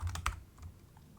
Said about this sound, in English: banging on that keyboard